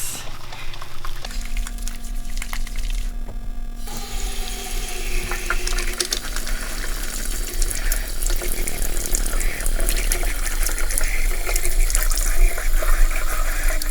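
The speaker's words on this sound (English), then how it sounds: "It's very important before we get started to wash our hands." Tap water runs steadily into a kitchen sink while hands are washed before making lime curd. The sound is a continuous splashing hiss with some brief handling clatter early on and no talking.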